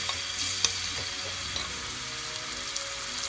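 Cumin, ginger and garlic sizzle steadily in hot oil, a dense, even crackle with a few small pops and faint stirring clinks, close and continuous with no talking.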